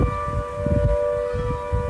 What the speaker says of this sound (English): you get a special experience of our local fire siren